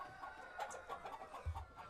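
Chickens cluck softly in a coop on an organic farm in Goesan, with a moderate, steady backdrop of overlapping low clucks and a slightly louder call near the end.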